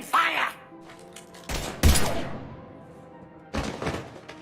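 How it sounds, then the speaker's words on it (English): Gunfire in the video game Mass Effect 3 comes as a few sharp, close blasts and thumps in short bursts separated by gaps, with a voice heard briefly at the start. "Now open fire!"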